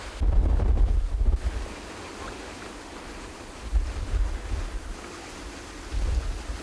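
Gusty wind buffets the microphone outdoors on a spin-fishing trip by the water, loud rumbling bursts that rise and fall in three waves over a steady windy background, with no talking.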